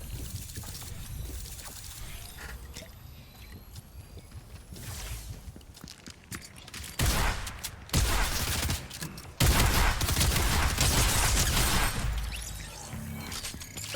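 Bursts of video game shotgun fire during fast combat, clustered loud blasts with broadband cracks, heaviest in the back half amid steady game background noise.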